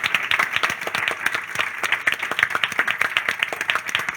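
A live audience at a talk on drill music bursts into steady, dense applause, many hands clapping close together without pause for several seconds.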